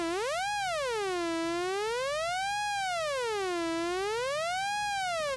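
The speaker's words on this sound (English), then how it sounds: "Already sounds a little bit like a siren." A synthesized dub siren tone from a Roland MC-101 sweeps slowly up and down in smooth, repeating waves, steady and loud with no other sounds.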